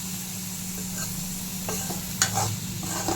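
Goat brain cooks in a pan with ginger garlic paste over a slow flame, with a steady low sizzle and a few sharp scrapes of stirring in the later half.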